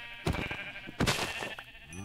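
Sheep in the Minecraft video game give two loud bleats, followed by a fainter third, sounding close and clear with no talk.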